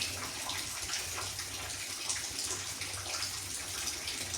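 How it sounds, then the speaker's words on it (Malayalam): Kerala-style spicy tuna fish curry boils in a pan, a continuous close bubbling and simmering hiss with no talk. "തിളയ്ക്കുന്ന സൗണ്ട് കേൾക്കുന്നുണ്ട്."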